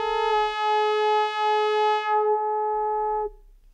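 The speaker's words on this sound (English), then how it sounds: "if I bring in something from oscillator 2 and put that into dynamics controller 2 and listen to the mix out of the two of them" Modular synthesizer oscillators mixed through dynamics controllers on a Voltage Lab 2, a steady buzzy harmonic-rich tone holding for about three seconds before cutting off abruptly, alone without voices.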